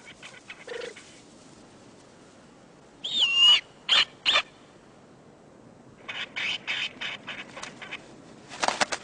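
A snowy owl calls on the open tundra, giving several sharp, scattered hoots and barking cries at moderate distance, with quiet gaps and no talk between them.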